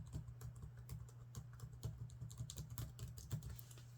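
Keys clatter in a quick, uneven run of soft clicks as someone types on an old Dell laptop keyboard, quiet and close, with a faint steady hum underneath.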